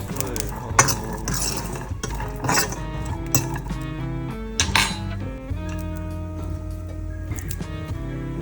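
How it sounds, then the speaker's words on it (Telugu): Almonds and walnuts are stirred as they roast in a pan, with a utensil scraping and clinking against the metal in irregular bursts and the nuts rattling close by. "ఇవి ఆల్మండ్స్ అండ్ వాల్నట్స్. ఇవి అయితే ఇప్పుడు కొంచెం వేపుకోవాలి."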